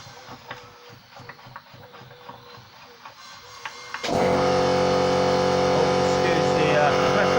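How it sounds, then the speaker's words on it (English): An air compressor in a workshop where the rear wheel bearing on a 2007 Ford Fusion is being replaced kicks on abruptly midway, a loud steady droning hum that follows a run of light clicking and mechanical taps. "Excuse the compressor."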